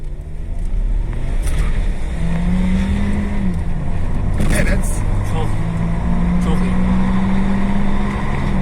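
A used VW Golf 1.2 TSI climbs a very steep hospital ramp in Niksar, its engine pulling hard and rising in pitch through the gears, heard from inside the car with occupants talking over it.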